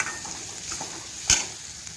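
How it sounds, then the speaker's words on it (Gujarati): Chana dal and onions are stirred in hot oil in a pan, with a soft, continuous sizzle and one sharper scrape of the spoon against the pan. "બધું મિક્સ કરી નાખવાનું છે."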